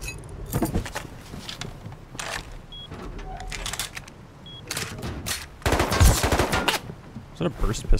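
Bursts of burst pistol gunfire in the game Rust, sharp cracks in clusters spread through the clip, one close and loud near the end, with faint talking under the shots.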